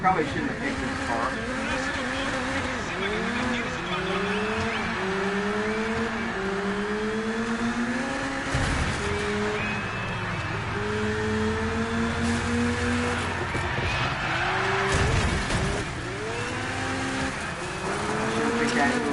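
A car engine in the racing video game Dirt 5 revs through repeated rising and falling gear sweeps, loud and steady, with a deeper drone joining midway.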